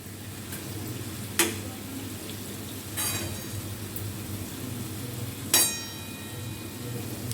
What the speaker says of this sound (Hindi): अब इसे गरम गरम ही हम चाशनी में डालेंगे